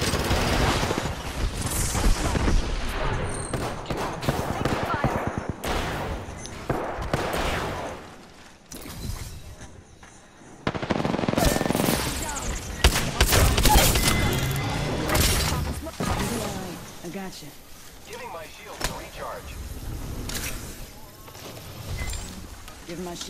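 Gunfire in a shooter game while under attack, with dense bursts of shots, crashes and thuds filling most of the stretch, a brief lull midway, and frequent talk mixed in.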